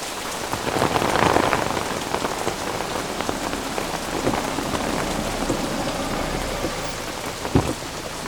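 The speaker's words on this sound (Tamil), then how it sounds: "என்ன மழை." Heavy rain pours down in a steady, dense hiss with drops striking hard surfaces and a deep rumble of thunder underneath, loud and continuous without any voices.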